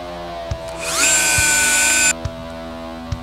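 Power drill enlarging rivet holes in a gun part in a gun-building shop, one steady high whine lasting about a second, with light taps and clicks before and after.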